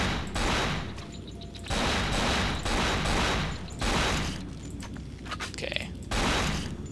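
Sustained automatic gunfire from the survival horror game Cold Fear, loud bursts lasting a second or more separated by short pauses, with lighter clatter in the gaps.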